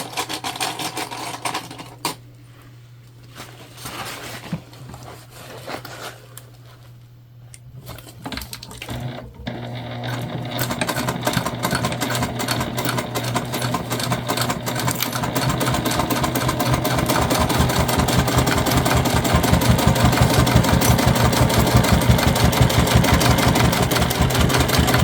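A sewing machine runs steadily as it bastes a zip panel onto a fabric tote bag, starting after a few quiet seconds, then stitching in a continuous close mechanical whir that grows louder and holds to the end.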